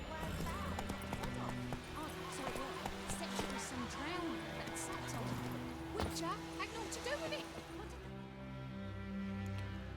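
Horse hooves clip-clop steadily through a village in a video game, with occasional whinnies, under game ambience and someone talking.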